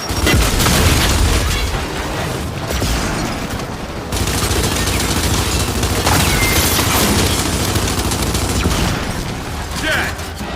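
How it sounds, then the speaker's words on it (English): A frag grenade blast goes off in Gears of War amid dense, continuous loud gunfire and booms of combat, with shouted voices mixed in. "Throwing frag!"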